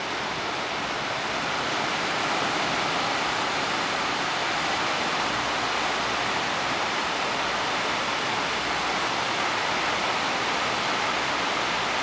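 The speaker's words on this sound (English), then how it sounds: "Here comes the waves." Small tsunami surge washing onto the shore at Kihei, Maui: a steady, loud, continuous roar of churning surf and rushing water with no break, filling the whole stretch with no voices.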